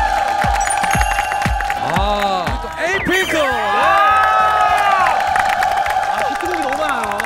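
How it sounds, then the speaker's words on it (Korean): A television variety show studio audience cheers, whoops and claps with high excited voices, while people talk and exclaim loudly over the crowd noise. "여러분 박지원 씨한테 박수 한번 주세요"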